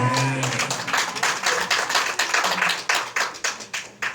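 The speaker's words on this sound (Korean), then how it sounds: "내가 또 강의 중에 또 박수를 다 받고" Audience applause breaking out in a church lecture hall, a dense run of many hands clapping that swells and then thins into scattered, separate claps toward the end.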